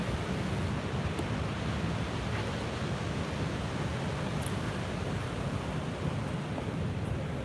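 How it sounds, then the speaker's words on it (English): Niagara Falls at night, a dense steady rushing roar of falling water heard from nearby, even and unbroken, with a few faint high clicks on top. "We're getting closer to the actual falls now."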